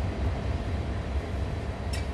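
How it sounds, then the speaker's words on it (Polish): Train passing by in Train Sim World 2, a continuous low rumbling roll of wagons with a brief faint metallic chink near the end, steady and moderately loud. "Tam jakiś pociąg też przejeżdża."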